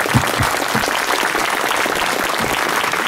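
An audience at Mosbjerg Folkefest, an outdoor folk festival in Denmark, claps steadily and warmly to welcome a speaker, a dense even applause that fills the whole moment without talk.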